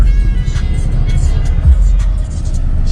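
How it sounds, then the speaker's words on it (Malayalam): Road traffic at the Kowdiar signal junction in Thiruvananthapuram: a steady low rumble of car and vehicle engines close by, continuous for the whole stretch with no voices. "ഓക്കെ ഗൈസ്, ഇതാണ് ട്രാഫിക് ആയിട്ട് ഇവിടുത്തെ"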